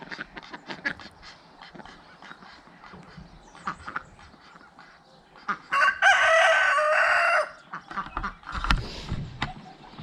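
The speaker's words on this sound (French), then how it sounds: "Oui, le coq." A rooster crows once, loud and clear, over a background of scattered clucks and quiet farmyard noise.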